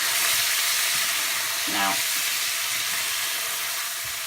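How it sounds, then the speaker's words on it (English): Ground turmeric, red chili powder and coriander frying in a pan for a lamb and cauliflower curry, a steady bright sizzle with a brief stirring scrape partway through, while a person talks briefly. "you're mixing it well because basically you're just frying the spices"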